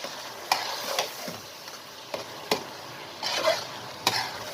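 A spoon stirs a spiced keema mixture for keema karela frying in a pan, with salt, turmeric and spice powder just added: steady close sizzling broken by a few sharp scrapes and taps of the spoon against the pan, with no talk.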